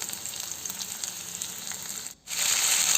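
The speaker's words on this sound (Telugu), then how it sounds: "తెల్లగడ్డలు దంచుకొని వేసేసుకుందాం. కొద్దిగా కరివేపాకు," Crushed garlic and curry leaves sizzle steadily in hot oil while a jackfruit curry is cooked, a close, continuous frying hiss with one brief drop near the end.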